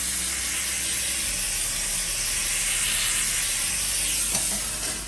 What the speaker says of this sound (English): but a little bit of steam